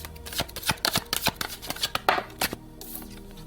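Playing cards handled and shuffled during a tarot-style card reading, a quick run of crisp riffling snaps and flicks, close and fairly loud, with no talk.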